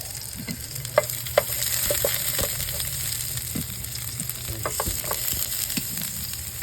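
Potatoes with egg frying in a pan, a steady close sizzle with occasional sharp clinks and stirring scrapes, no talking.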